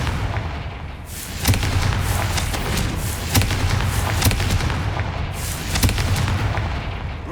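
A series of Confringo blast spell explosions in Hogwarts Legacy, with repeated sharp booming bursts at irregular intervals over a dense rumbling background and no voices.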